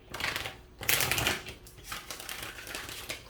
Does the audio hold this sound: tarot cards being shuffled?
yes